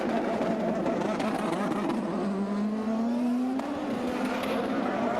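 Champ Car race cars in the Montreal pit lane during a 2003 round, engines droning steadily with a rising whine as one car pulls away, all under a continuous wash of track noise.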